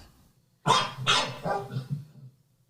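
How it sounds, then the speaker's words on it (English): Two dogs barking in quick succession, about four sharp, loud barks close together at near range, followed by silence, with no voices. "when you have 2 dogs barking, right, that you get some information"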